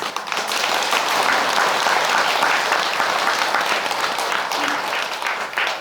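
Temple congregation applauds during a special Buddhist dharma service, sustained even clapping from a crowd that holds steady throughout, fairly close and full, with no speech over it.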